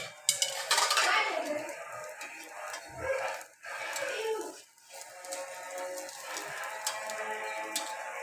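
A spatula scrapes and clatters against a non-stick pan while flipping a gram-flour pudla pancake, with several metallic scrapes and taps of varying loudness, close up, and a faint voice in the background.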